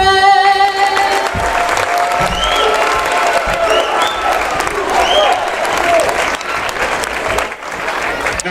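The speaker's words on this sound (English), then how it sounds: "The Bomber cheer section says USA." Crowd at a high school basketball sectional game, Macomb Bombers versus Manual Rams, bursts into sustained applause and cheering right after the national anthem, a dense continuous roar with scattered whistles and shouts throughout.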